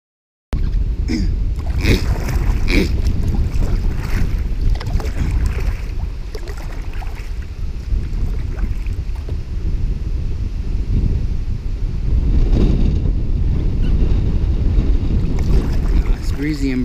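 Wind buffeting the microphone with a continuous low roar during a river canoe paddle on a breezy, bright day, loud and steady throughout with faint water and paddling sounds beneath.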